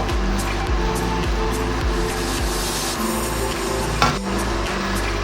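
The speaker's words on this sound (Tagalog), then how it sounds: "Haluin natin ulit" Ground pork picadillo being stirred in a pan with soy sauce, a steady close scraping and shuffling over a continuous low sizzle, with a brief louder clatter near the end.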